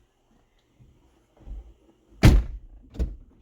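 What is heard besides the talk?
car door closing and reopening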